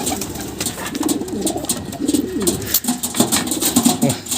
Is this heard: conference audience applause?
no